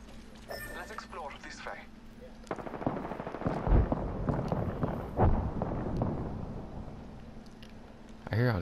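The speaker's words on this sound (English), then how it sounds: "Gunshots, and I can't pinpoint." Bursts of gunfire crackle through the Apex Legends game soundscape, with sharp shots around the middle and talking throughout.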